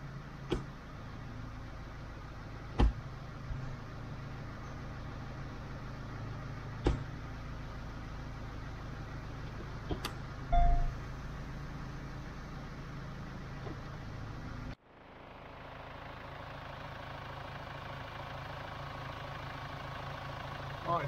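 A Hyundai Santa Fe engine idles steadily during a transmission and driveline service while the gears are run through, a low continuous drone with occasional clunks, before the sound abruptly shifts to a quieter, thinner hum.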